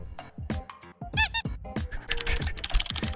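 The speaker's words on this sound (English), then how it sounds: "Intense typing." Rapid in-game keyboard typing in Roblox Brookhaven, a quick run of crisp clicking taps mixed with squeaky chirps and short bursts, close and loud with no talking.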